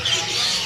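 A myna bird calls at a bird kiosk: one short, harsh squawk, close and fairly loud, with no talking over it.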